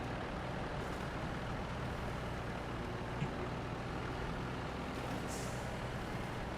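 A truck engine in the SnowRunner video game chugs along steadily, a constant low rumble throughout with a faint air-brake-like hiss near the end and no talking.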